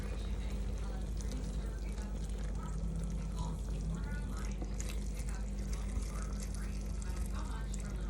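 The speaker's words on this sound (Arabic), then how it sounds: "وبنجيب مي مغلية وبنديرها." Boiling water pours into a pot of stuffed vegetables, a steady, continuous splashing rush with low gurgling throughout, while a voice speaks partway through.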